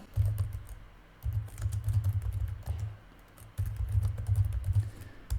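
A computer keyboard clatters as a command is typed during a Cisco switch port-security configuration, with quick, close, steady keystrokes in bursts separated by short pauses, and no voices.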